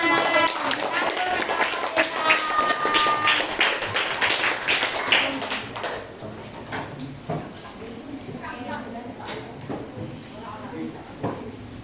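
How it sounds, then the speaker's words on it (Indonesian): Schoolchildren in an elementary classroom clap for a group presentation, a dense burst of quick hand claps that fades after several seconds. Voices chatter alongside and carry on after the clapping. "Tepuk tangan."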